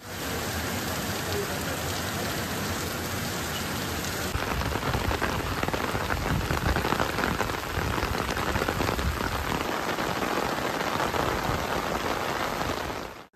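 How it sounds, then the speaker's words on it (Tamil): Heavy rain pours steadily in the Annur area of Coimbatore, a dense, even hiss of drops hammering surfaces that stays loud and unbroken throughout with no voices. "அன்னூர் சுற்றுவட்டார பகுதிகளில் 1 மணி நேரத்திற்கும் மேலாக கனமழை வெளுத்து வாங்கியது"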